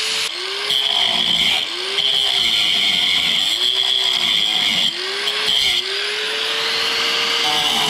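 A power cutting tool slices through the rocker panel sheet metal of a Mercury Sable station wagon, a loud, steady, close whine with rhythmic dips in pitch as the cut progresses.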